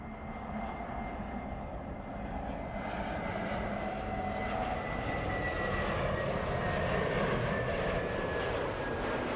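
A Delta heavy jet airliner rolls for takeoff on runway 24 left at LAX, giving a steady, distant engine roar that slowly swells over about nine seconds, with no talk.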